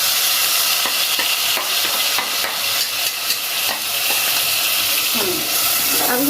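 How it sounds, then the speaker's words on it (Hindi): Beef korma mixture frying in hot oil, a loud, dense, continuous sizzle with crackling and steady stirring strokes throughout, close by. "तेल में इस तरह से भूनना है।"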